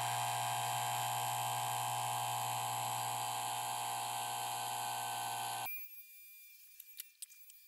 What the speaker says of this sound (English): We'll turn the air assist kit on